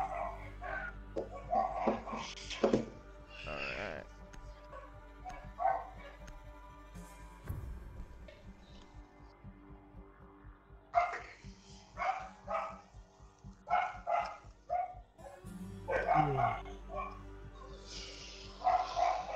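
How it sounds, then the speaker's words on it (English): A dog barks in the background of an online Rainbow Six Siege match, sounding in scattered bursts of barks, partly masked by continuous game sound and people talking. "Somebody's dog is going nuts in the background."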